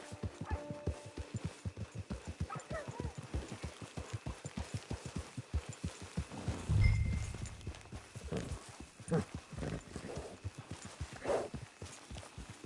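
Horse hooves trot steadily in Red Dead Redemption 2, a fast, even clip-clop that runs through most of the stretch, briefly overlaid by a louder rumble midway and fainter game sounds.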